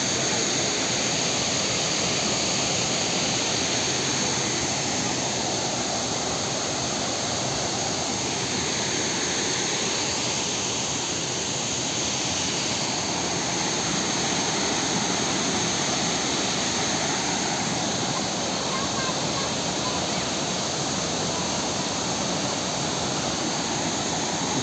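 A waterfall in dense forest at Jim Corbett gives off a steady, even rush of falling water that fills the whole stretch without pause, with no talk heard.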